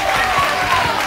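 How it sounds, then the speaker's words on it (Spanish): Studio audience at a Spanish television show clapping, a short dense burst of applause from a crowd, steady and fairly loud throughout. "pues un aplauso para Paterna"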